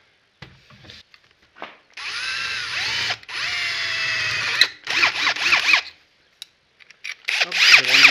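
A power drill boring holes in airbox parts during a rebuild of a Honda Dominator 650 RD02 motorcycle, with several close, loud whining bursts separated by short pauses.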